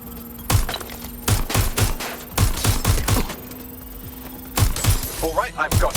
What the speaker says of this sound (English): Taking fire! They're shooting!